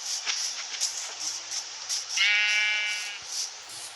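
A sheep bleats once in a yard, a drawn-out, wavering call lasting about a second. Quiet rustling and soft thuds surround it.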